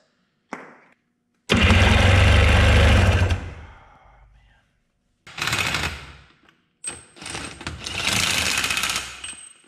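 Several bursts of a $50 Wave Runner's two-stroke engine being cranked, loud rapid chattering churns lasting a second or two each, separated by short silences, with no talk over them.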